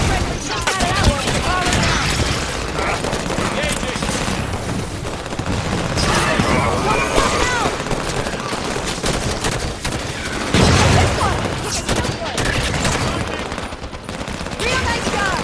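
Sustained automatic gunfire and rapid bursts from a Halo 5 firefight, loud and close, with heavy overlapping shots and a brief boom, while voices call out over the shooting.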